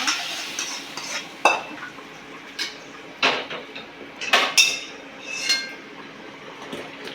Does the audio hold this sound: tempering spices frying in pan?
yes